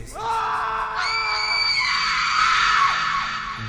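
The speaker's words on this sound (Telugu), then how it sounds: "గట్టిగా అరుస్తూ" A man lets out a loud, drawn-out scream of terror in a narrated horror story. The scream rises and holds for several seconds, then fades.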